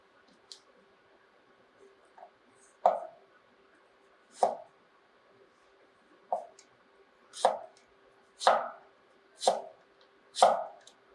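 A knife cuts vegetables into thin slices on a board, several crisp separate chops spaced about a second apart, close and fairly quiet, with a faint steady hum underneath.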